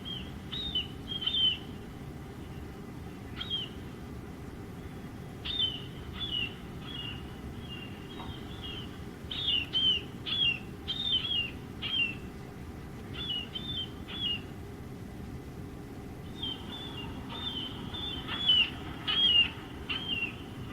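Recorded calls of a marbled murrelet, the keer call: repeated high, sharp piercing cries in short clusters over a low rumbling background, some closer and louder, others fainter.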